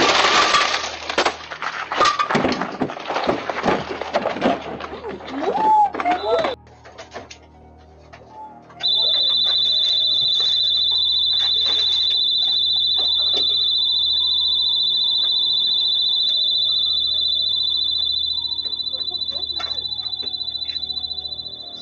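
Store burglar alarm sounding during a break-in, first a burst of crashing, smashing and clattering, then a loud, steady, unbroken high-pitched alarm tone that continues for over ten seconds while faint knocks and rattles go on under it.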